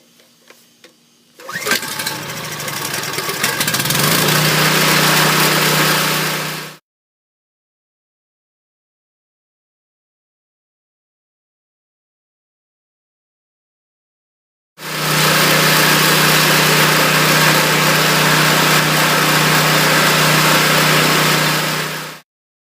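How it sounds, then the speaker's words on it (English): A small engine is choked and pulled into life, roaring loudly for several seconds, then cutting out to silence before a second loud stretch of steady running. "Choke it and keep your fingers crossed, it should start right up."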